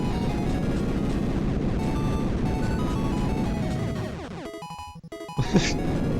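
Chiptune bomb blasts from the NES game Bomberman, heard as a loud clattering burst of 8-bit noise over game music, then a short drop-out and a final rising electronic sweep.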